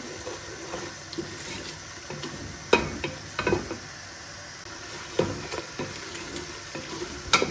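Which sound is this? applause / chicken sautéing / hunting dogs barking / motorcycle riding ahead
chicken sautéing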